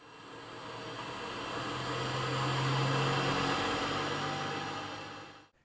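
A rotating machinery test rig runs steadily at 3000 RPM with an imbalance, giving a constant whirring machine hum with a low tonal drone that swells slightly mid-clip and cuts off abruptly at the end.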